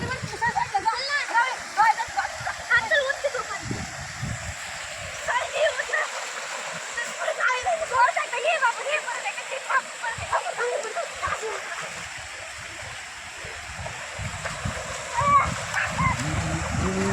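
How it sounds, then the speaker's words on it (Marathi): Water splashes and sloshes irregularly as village people wash quilts outdoors, with steady running-water noise beneath and voices chattering throughout. "आता गोधड्या धुवायला सुरुवात होईल."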